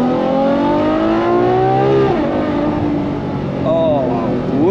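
A Ferrari F12 TDF's 780-horsepower engine revs loud and close while driving, its pitch climbing then dropping away and rising again, with occasional talk over it.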